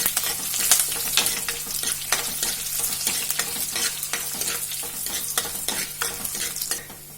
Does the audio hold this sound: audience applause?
no